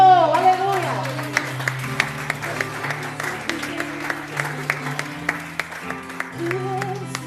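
Worshippers in a church service clap along, with sharp individual claps ringing out rhythmically over sustained music and a voice near the start, the clapping growing more regular and distinct toward the end.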